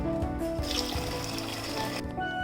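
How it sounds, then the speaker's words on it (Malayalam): Water pours steadily into a pot of biryani, a continuous trickling splash with a slight gurgle, close by and uninterrupted. "ഈ ഗ്ലാസ്സിൽ തന്നെ മൂന്ന് ഗ്ലാസ് വെള്ളം ഒഴിക്കുകയാണ്"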